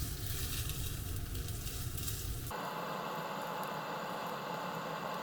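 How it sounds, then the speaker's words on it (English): Fish fillet skin sizzles and crackles in a hot pan as it crisps for a teriyaki bento, a steady close frying hiss that shifts in tone partway through. "I'm just going to cook the skin a little bit to make it crispy."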